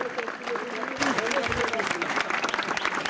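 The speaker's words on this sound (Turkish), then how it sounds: "Gelin hanıma güçlü alkışlarınızla teslim ediyoruz" Guests applaud the bride at a Turkish wedding, a dense burst of clapping that swells sharply after the first second while a voice speaks over the start.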